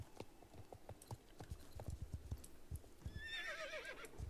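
Horse in the video game Star Stable Online: steady clip-clop of hooves at a trotting rhythm, then a clear, fairly close whinny rising over the hoofbeats near the end.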